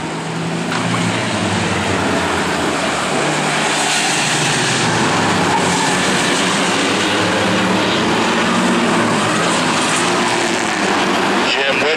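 Four- and six-cylinder pickup trucks in an enduro race roar around the oval at Riverhead Raceway, a loud, continuous engine drone with crowd and announcer talk mixed in throughout.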